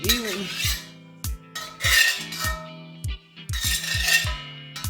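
Metal scrapes and clanks in a cast iron pan as oil is spread around, in repeated short strokes with sharp taps and ringing knocks, loud and close, with no talk.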